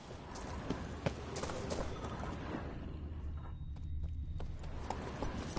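Roach, the horse in The Witcher 3, galloping along with a steady rapid clip-clop of hooves, moderately loud over a low ambient background.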